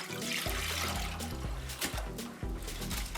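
Soaked rice together with its soaking water is tipped into a cooking pot, a close, steady rushing splash heard over a tonal musical backdrop that runs throughout.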